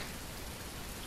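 Rain falling in the Bus & Cable Car Simulator video game, a steady, dense hiss of drops spread evenly across the moment, moderately quiet with no voices.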